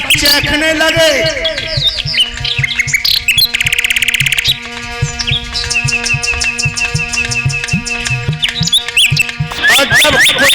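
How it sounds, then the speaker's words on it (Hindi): Papiha birds chirp in trees, their bright, fluttering tweets and rising calls heard over continuous loud music with a singing voice throughout. "वृक्षों पे पपिया पक्षी चहकने लगे।"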